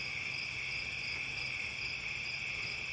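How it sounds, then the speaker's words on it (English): Crickets chirp in a steady, pulsing chorus, the high trills repeating evenly and continuously at a moderate distance, with no other sounds. "I'm like obsessed with crickets, the sound of crickets."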